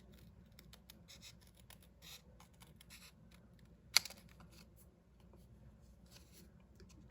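Scissors snip steadily through cardstock while fussy cutting around a stamped image, soft close crisp clicks and scratchy slicing in an irregular rhythm, with one sharper snap partway through.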